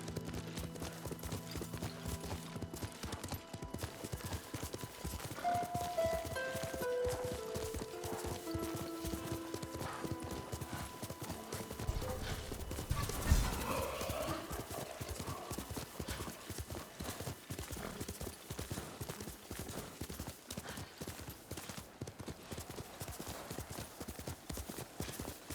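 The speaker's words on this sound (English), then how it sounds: "Horse!" Hooves clip-clop in a steady galloping rhythm as a horse runs in the video game Ghost of Tsushima, with a brief whinny, musical score and clattering effects underneath.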